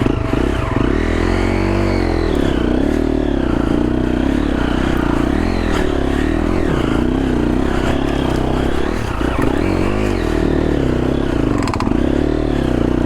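A Triumph TF250E motorcycle engine chugging off-road through the Australian bush with the clutch feathered, a loud, close, continuous low thrum with lumpy pulses and some clatter over rough ground.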